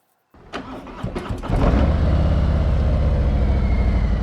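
A Kawasaki motorcycle engine cranks with a few uneven sputters, then catches and settles into a loud, steady idle, close by and with no voices.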